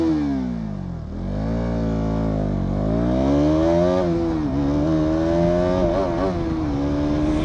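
A KTM Duke 200 BS6 motorcycle accelerates along a highway, its single-cylinder engine rising in pitch, dipping at gear changes, and climbing again through the gears, loud and close throughout.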